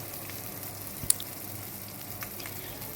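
Tilapia-style fish frying in hot oil in a pan, giving a steady, low hiss of sizzling throughout with one sharp pop near the middle and faint crackles.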